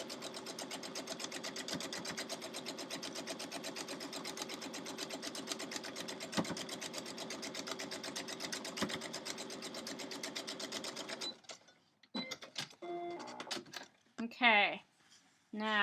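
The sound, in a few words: sewing machine stitching a quilt star block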